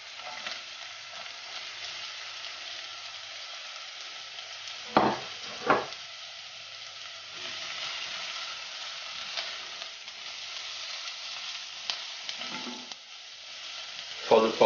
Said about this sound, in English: Now we want to saute these down a bit until they go nice and soft.